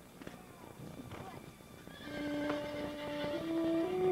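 Horses whinny in high, wavering calls during the second half at a three-day eventing competition, with soft hoof clopping and a voice speaking earlier.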